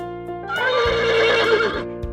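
A horse in a children's story gives one loud, close whinny lasting about a second and a half, rising and then trembling down, with faint low thuds before and after.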